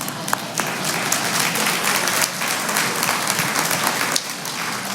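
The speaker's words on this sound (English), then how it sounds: "So let's give a nice, warm round of applause" Warm audience applause at a business talk or event, dense continuous clapping from a large crowd, loud and steady throughout.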